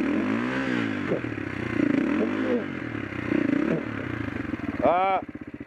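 A vehicle engine revs repeatedly in rising and falling surges while being driven out of soft ground, loud and close, with clattering and a sharp high rev near the end, and voices talking over it.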